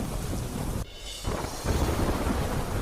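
Heavy downpour in Mandi, Himachal Pradesh, with loud steady rain roaring close to the microphone, a brief dip in the middle, then the torrent swells back even louder.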